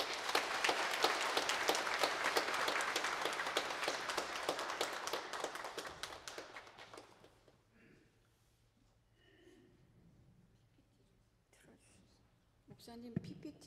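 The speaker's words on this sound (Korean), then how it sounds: "오늘 나오실 때 뜨거운 박수로 환영해 주시길 바랍니다" A church congregation gives a pastor a welcoming round of dense, steady clapping for about six seconds, which then fades to a quiet room with faint murmurs and shuffling before a voice returns.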